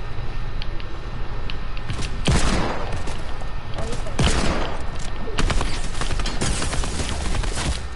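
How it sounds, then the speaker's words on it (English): Rapid bursts of gunfire from a shooting video game crackle steadily throughout, with heavier shot clusters standing out, under continuous game background noise and light player talk. "What the heck are you shooting?"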